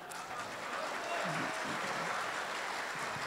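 Listeners at a 2017 Urdu mushaira in Qatar applaud a poet, a soft, distant, sustained crowd clapping with voices murmuring underneath.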